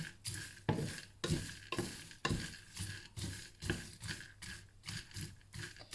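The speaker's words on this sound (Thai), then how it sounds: "เราต้องพยายามกวนอยู่เรื่อย ๆนะคะ เพราะว่าไม่ให้เขาไหม้" Hazelnuts being stirred constantly while roasting in a pan, a steady rhythmic scraping and rattling stroke roughly every half second, close and clear with no talking.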